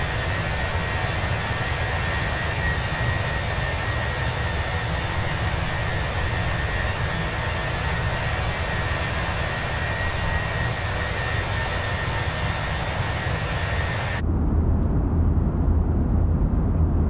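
The F1 aircraft in Microsoft Flight Simulator makes a steady, loud engine drone and broadband rush that holds even for a long stretch, then cuts abruptly to a lower, quieter rumble near the end.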